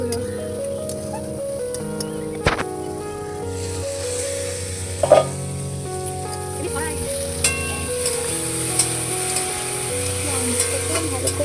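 Chicken frying in a pan with tomato and ground spices for a mild gravy, making a continuous close sizzle with scattered stirring clinks and knocks, and a voice speaking faintly underneath.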